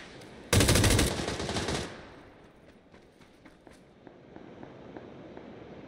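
M249 machine gun in a video game firing one long, loud sustained burst, followed by scattered distant shots and footsteps.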